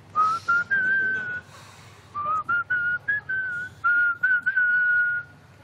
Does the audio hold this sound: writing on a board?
no